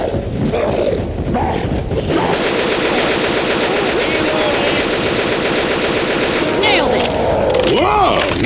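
Sustained machine gun fire from the Left 4 Dead 2 video game rattles loudly and continuously for several seconds in a dense, chaotic barrage mixed with other game noise.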